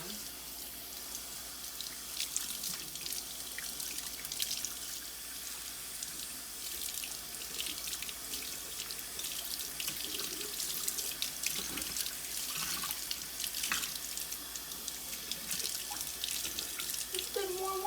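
Warm tap water runs steadily into a sink for bathing a cat, a constant broadband splashing stream with a few drips, close and moderately loud throughout.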